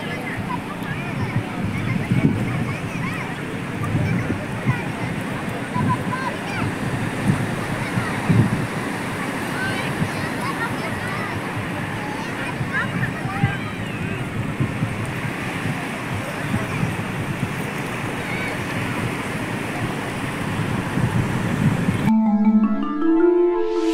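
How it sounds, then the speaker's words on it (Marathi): Sea waves on Dahanu beach at sunset make a continuous broad rushing wash of surf, with wind buffeting the microphone, before the sound cuts off abruptly near the end. "तुम्ही बस आता शांतपणे फक्त इकडच्या पाण्याचा आवाज फील करा"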